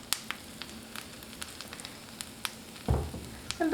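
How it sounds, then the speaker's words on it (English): Shredded Brussels sprouts hit hot fat and melted butter in a pan, giving a soft steady sizzle with faint crackles that swells into a louder burst of frying near the end, with no talk. "So now that our fat is nice and hot and the butter has melted, we'll add our shredded Brussels sprouts to it."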